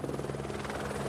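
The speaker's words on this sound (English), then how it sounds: "When a helicopter arrives at base camp" A helicopter arriving at Everest base camp, its steady rotor chop pulsing continuously at moderate distance over a constant engine whine, with no voices.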